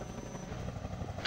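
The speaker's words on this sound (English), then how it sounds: "How is this helicopter doing that?" Helicopter in the video game Half-Life 2 gives a steady, close whirring rotor and engine drone that runs throughout, with a brief brighter swell right at the end.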